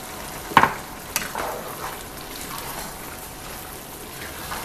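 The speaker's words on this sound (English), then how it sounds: "Stir for me." Vegan black bean jjajang sauce, thickened with extra water, is stirred in a pan, giving a soft bubbling simmer with a couple of sharp scrapes near the start, all fairly quiet and without voices.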